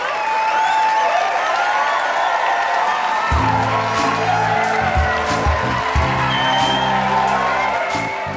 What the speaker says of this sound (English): I don't know what they're applauding